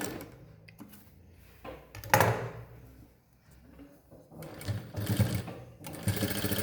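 A sewing machine runs double stitching on a blouse in short, uneven bursts of close mechanical rattling. Quiet handling clicks fill the pauses between runs.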